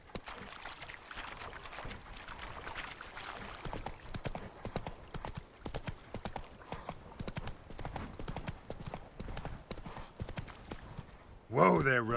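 Horse hooves from Roach in the video game Avowed gallop in a steady clip-clop rhythm, close and fairly loud, with a rider's voice over the hoofbeats and a brief louder burst at the end.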